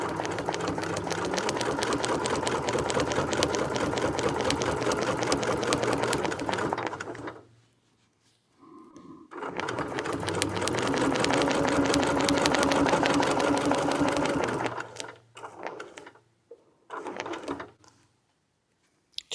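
A sewing machine fitted with a ruler foot stitches in long rapid runs, pausing briefly between bursts and ending in a few short stop-start stitches.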